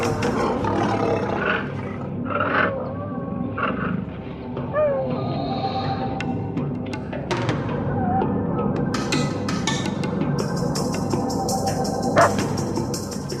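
Lions roaring in a wild landscape, a series of deep, drawn-out roars and grunts rising and falling over about thirteen seconds, loud and fairly close, mixed with a steady ambient bed and some bird calls.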